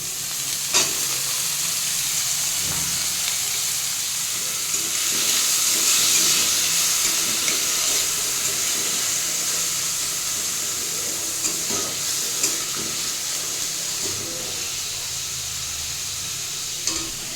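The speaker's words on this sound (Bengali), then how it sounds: "তেল গরম করে নিয়েছি এরপরে পেঁয়াজ কাঁচা লঙ্কাটা এটা দিয়ে দিচ্ছি তার সাথে গাজরটাও দিয়ে দিচ্ছি" Onion, green chilli and carrot fry in hot oil with a dense, steady sizzle and hiss that runs throughout, interrupted now and then by the scrape and clatter of stirring, close and continuous.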